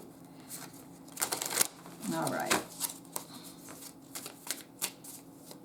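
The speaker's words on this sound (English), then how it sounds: "that was me misdealing, shuffling." Playing cards riffle and snap in short bursts at close range, with a brief spoken remark partway through.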